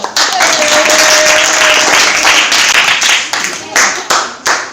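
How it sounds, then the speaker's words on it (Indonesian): Audience clapping hands after a classroom presentation, a dense burst of applause that thins into a few scattered final claps, with a faint tone running underneath. "Ya, tepuk tangan dulu."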